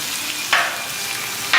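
Shredded beef for a Philly beef sandwich fries steadily in a hot pan, with two sharp bursts of sizzle as the meat is tossed, each fading back into the continuous crackle.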